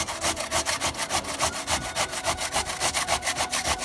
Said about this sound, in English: So I use the coarse end on a box grater.